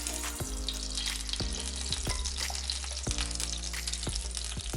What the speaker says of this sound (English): add our onions, and we're gonna just go ahead and brown those until they are softened